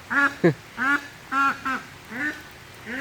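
A male duck quacks repeatedly at close range, loud, hoarse calls spaced about half a second apart.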